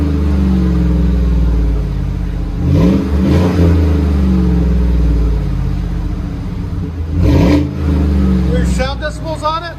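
A 2017 GMC Sierra Z/71 pickup's 5.3L V8 fitted with a Proven Ground cat-back exhaust rumbles loudly at idle and swells through two quick revs, deep and close, with voices talking over it.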